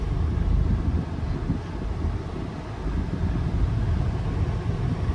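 Steady low engine drone and road rumble from a Honda car, probably with a 3-liter V6, driving along in third gear, close and continuous with some wind noise and no talk.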